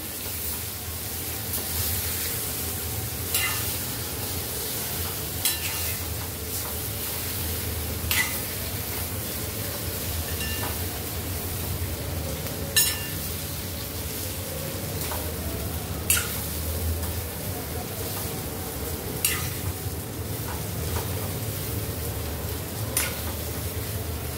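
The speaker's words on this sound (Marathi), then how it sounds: "मस्त अशी वांगी परतवून घेऊया." Brinjals sautéing in a hot pan, a steady low sizzle running throughout with occasional sharp clicks of a spatula stirring and scraping the vegetables.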